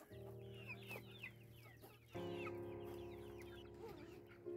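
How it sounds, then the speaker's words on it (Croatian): Small hens cluck in a coop, a flurry of quick overlapping clucks and chirpy calls close by, over a steady low mechanical hum that steps up partway through. "Kokice male."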